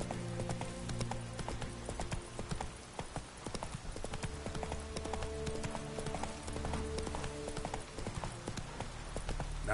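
Horse hooves clip-clop steadily at a gallop as the mount Roach runs in The Witcher 3: Wild Hunt, with game music and ambience layered underneath throughout.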